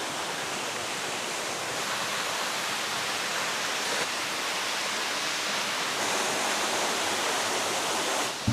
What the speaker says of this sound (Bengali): এই হচ্ছে ধারাগিরি ওয়াটারফলস